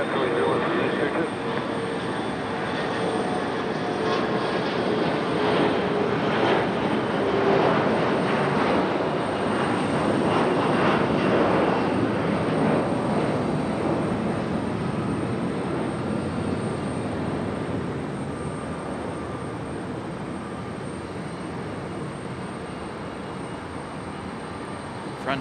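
A Frontier airliner takes off from Raleigh-Durham International and turns away, its broad jet engine roar sustained and loud for most of the pass before slowly easing as it recedes.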